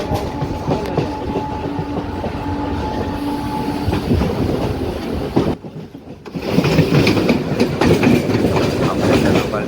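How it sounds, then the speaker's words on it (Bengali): A 12-car suburban local train passes close by, a loud continuous rumble with rhythmic clickety-clack of wheels over rail joints, a brief dip in the middle, then the roar resumes. "12 কামরার লোকাল ট্রেন পাস করছে। আবার একটি লোকাল ট্রেন পাস করছে"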